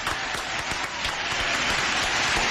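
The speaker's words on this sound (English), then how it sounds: "Yeah, let's hear applause." Applause for a prize winner on a live radio show: a dense, steady wash of many hands clapping at once, fairly close and sustained without any talking.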